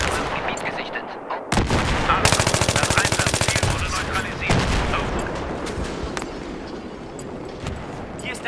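Battlefield 3 gunfire: loud, rapid automatic bursts in a fast rattling stream, with sharper single shots and blasts around them and voices faintly underneath.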